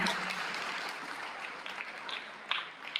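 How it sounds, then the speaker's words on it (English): Audience applause at an academic excellence awards event, a dense steady patter of many hands clapping at moderate distance, filling the whole stretch with a few sharper claps standing out near the end. "So if you would all join me in a round of applause for Kevin Teasley"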